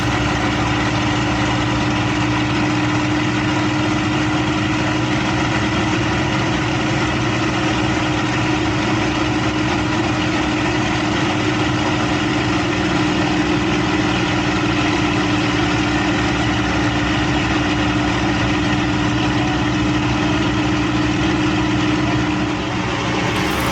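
A Spitfire's piston aero engine drones steadily through steep, tight turns in flight over Battle of Britain airspace, a loud, continuous, even hum with no gaps.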